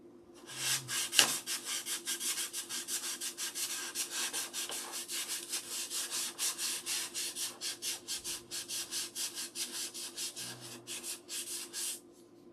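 Steady back-and-forth hand sanding in a final sand-out, rhythmic gritty strokes repeating evenly and close up for the whole stretch.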